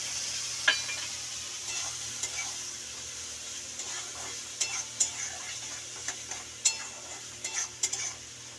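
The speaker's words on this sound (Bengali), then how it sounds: "একটু নাড়াচাড়া করে নিয়ে দিয়ে দেব এই সর্ষে বাটাটা" Mustard paste being stirred and fried in a pan for a home-cooked dish of kochur loti with amra, a quiet steady sizzle under scattered light scraping taps of a utensil against the pan.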